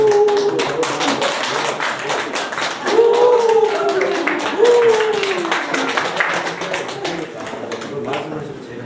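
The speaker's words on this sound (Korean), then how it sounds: "박수." Audience applause at a lecture for an anti-corruption leadership course, many hands clapping steadily for several seconds. A voice speaks over parts of it, and the clapping thins toward the end.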